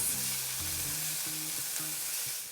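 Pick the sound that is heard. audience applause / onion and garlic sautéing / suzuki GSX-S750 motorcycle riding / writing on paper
onion and garlic sautéing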